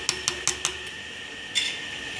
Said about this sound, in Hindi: अब मैं इसके ऊपर कैप देने लगी हूँ।